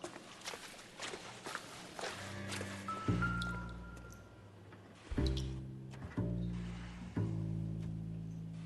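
Water dripping inside a building in the video game L.A. Noire, soft drops and wet squishy steps over a quiet ambient hum, with low rhythmic tones swelling in later.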